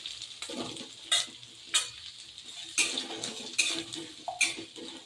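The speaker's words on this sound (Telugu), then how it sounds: "పచ్చిమిర్చి రోస్ట్ అయిన తర్వాత సొరకాయ ముక్కలు వేసుకోండి." Bottle gourd pieces dropped into a pan of roasting green chillies, giving a steady close sizzle with several louder stirring scrapes and clatters spread through the moment, no voices.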